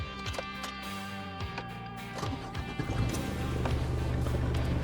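A Nissan Navara pickup fitted with a custom audio system and three-layer sound deadening starts up. Short irregular clicks and cranking give way to a steady low engine rumble that holds through the end.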